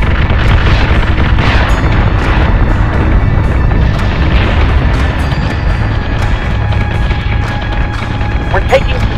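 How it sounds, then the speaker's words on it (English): Weapons fire in a Battlestar Galactica space battle game: a loud, continuous wall of booming blasts and explosions, dense and unbroken throughout, with scattered sharper bursts near the end. "We're taking sustained fire. We're taking fire!"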